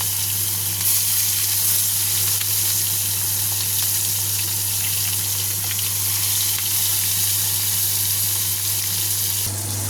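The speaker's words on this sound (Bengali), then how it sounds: "এবার আমি মাছটা একে একে সব দিয়ে দেবো কড়াইতে" Katla fish pieces frying in hot oil in a wok, producing a loud, dense, continuous sizzle that stays even for the whole stretch over a constant low electrical hum, with no talking.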